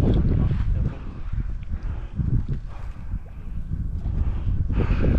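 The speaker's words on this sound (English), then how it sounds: "Well, the wind picked up." Gusty wind buffets a fishing boat on open water during a crappie outing, a steady low roar that swells and eases throughout with no other clear sounds.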